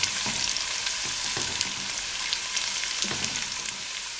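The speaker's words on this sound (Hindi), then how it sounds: "अब प्याज़ों को हम अच्छे तरीके से ब्राउन करेंगे।" Onions brown in a pan over a low flame, a steady close sizzle and crackle with occasional stirring scrapes and taps, no voices.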